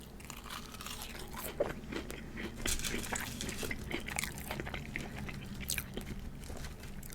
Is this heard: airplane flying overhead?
no